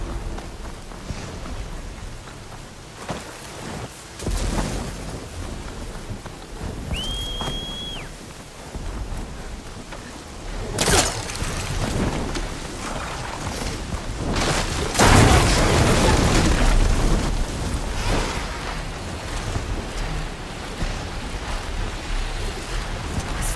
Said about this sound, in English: Storm's not gonna let up.